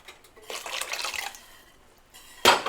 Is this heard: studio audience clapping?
no